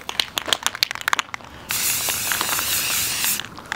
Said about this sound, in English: use, like, short, fast spray strokes, so I'm gonna try that